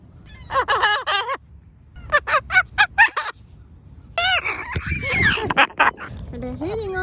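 Crows and seagulls call in repeated bursts of harsh, harmonic cries, some close and loud, with a pause between volleys and a busier tangle of calls toward the end; a voice may be heard among them.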